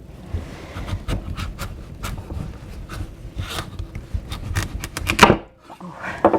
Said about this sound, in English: that's where I chop it in half